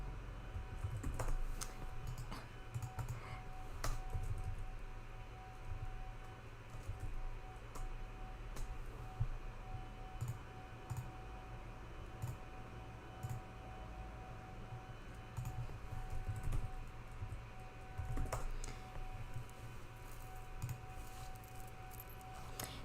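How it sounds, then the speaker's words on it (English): Continuous typing on a computer keyboard while entering a search term into a search bar, with steady soft key clicks throughout over a faint background hum. "But you can see I've just typed in medieval here."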